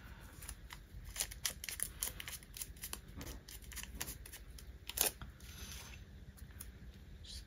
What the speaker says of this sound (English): I'm just gonna kind of rip this